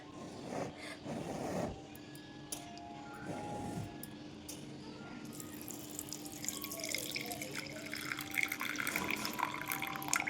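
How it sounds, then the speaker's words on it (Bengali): Hot milk is poured into a container, a faint watery trickle that builds into a steady splashing stream after a few light clinks and handling sounds. "এবার আমি দুধটাকে এটার মধ্যে ঢেলে দেবো।"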